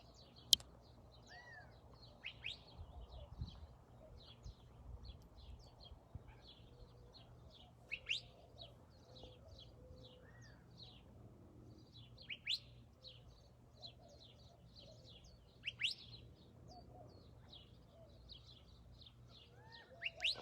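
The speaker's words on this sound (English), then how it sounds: "Just start with some songs with the beautiful birdies." Several birds chirp and tweet outdoors in short, scattered calls, fairly faint and distant over a low background hum, with no talking.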